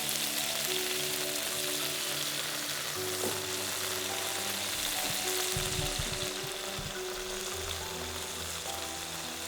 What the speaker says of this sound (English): we want to sear it for probably about 60 seconds on each side, get a nice caramelization, nice crust on it